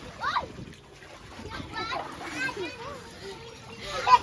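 Kids swimming and splashing in water, with intermittent splashes and sloshing close by under frequent children's voices and an adult talking.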